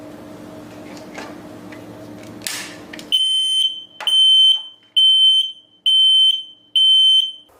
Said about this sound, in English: Once removed by attackers, it will send signals to make the alarm.